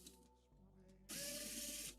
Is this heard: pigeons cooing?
no